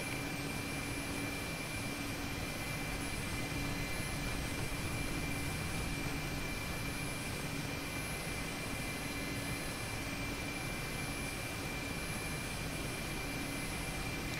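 A Mi-8 helicopter lifting off in the DCS flight simulator, its turbine whine and rotor roar holding steady and loud from up close, with no voices.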